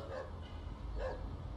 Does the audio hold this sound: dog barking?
yes